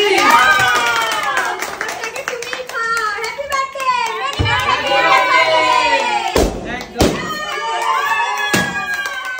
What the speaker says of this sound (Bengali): সবাই জোরে একটা হাততালি।